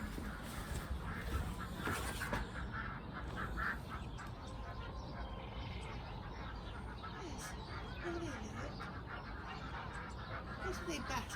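Farmyard ducks quack in alarm alongside geese, a steady noisy chorus of calls running throughout, with people talking over it.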